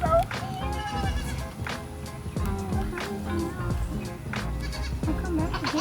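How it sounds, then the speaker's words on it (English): Small young goats bleat repeatedly at close range, their calls overlapping amid a busy background with people talking nearby. "these are little small goats."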